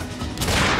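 A burst of pistol gunshots fired from a distance during a chaotic police scene: a loud, dense crackle of shots that swells and sustains under the noise without pause.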